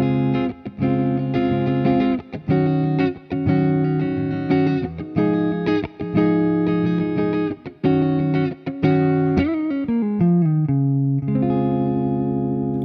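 An electric guitar played through the neck pickup with the coil in parallel rings out clean chords and single notes, then a short sliding phrase, loud and close with no talk.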